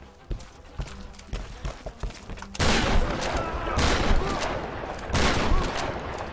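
Handgun and shotgun fire from the Tomb Raider video game: a string of sharp separate shots, then a dense, loud burst of rapid gunfire with slight pauses.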